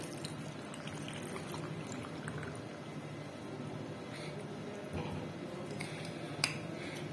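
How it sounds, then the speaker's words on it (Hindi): Water poured steadily into a blender with falsa berries, ice cubes and black salt, a continuous liquid splashing with faint clinks of utensils near the end. "और 1 कप पानी डाल दूंगी।"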